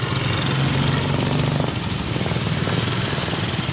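A scooter running with no engine oil, its engine close to seizing, gives off a loud, rough, clattering drone that holds steady and close throughout.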